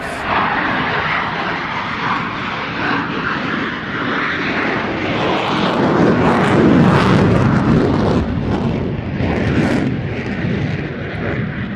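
Swiss Patrouille Suisse F-5 Tiger jets fly at an airshow with a loud, continuous roar that swells toward the middle and stays dense with no break. No voices can be heard.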